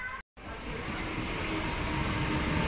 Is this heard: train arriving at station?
yes